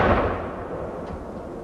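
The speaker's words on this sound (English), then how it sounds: "A gun salute at Hillsborough Castle marked the King's proclamation." A ceremonial gun salute fires at Hillsborough Castle in County Down to mark a king's proclamation, one loud booming blast that fades into a long rumbling echo.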